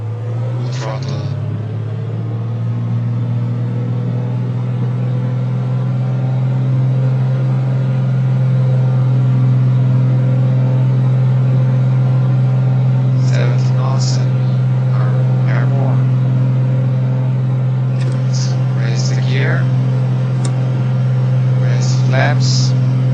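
A light aircraft engine running at full throttle for takeoff: a steady, loud droning rumble that holds for the whole stretch, with a pilot speaking over it in short intermittent bursts.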